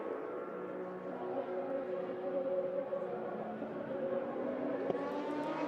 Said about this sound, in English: The McLaren Senna is the next car to come over the timing line